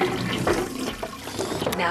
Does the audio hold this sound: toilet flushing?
yes